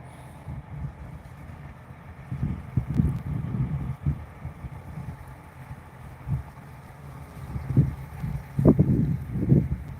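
Outdoor wind buffets the microphone during a live broadcast from a vehicle, low uneven rumbling gusts that swell and fade in bursts over a faint steady hum.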